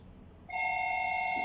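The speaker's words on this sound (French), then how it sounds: "il y a le téléphone qui sonne" A telephone starts ringing abruptly, a steady, loud electronic tone that holds evenly once it begins.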